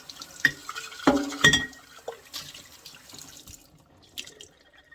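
Glass canning jars are rinsed under a running kitchen tap, with splashing water and clinking glass coming in bursts, close by and with no talk.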